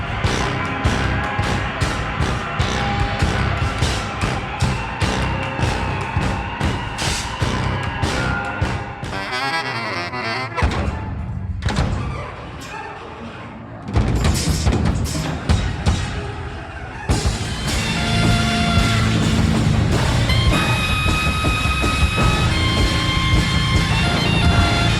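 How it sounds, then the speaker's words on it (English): Instrumental jazz metal with droning horns and wind instruments over pounding, clanking drums, loud and dense with abrupt drops into near silence and then a hard restart. "There are these constant droning horns and wind instruments layered over these drums that are pounding through your head and clanking and snapping"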